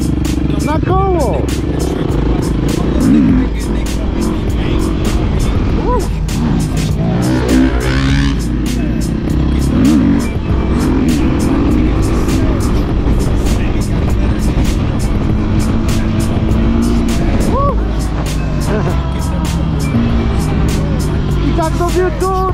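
KTM 350 and Beta 350 motocross bikes revving and riding in a village race, loud engines rising and falling throughout while people talk and shout over them.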